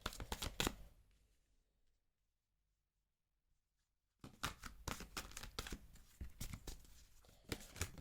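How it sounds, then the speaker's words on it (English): Large tarot cards are shuffled and fall onto a surface, giving bursts of papery flicking and slapping, then a pause of near silence before a longer run of shuffling riffles and taps, close and fairly clear. "The cards are falling. Yeah, they're big, so sometimes it's not easy to shuffle them."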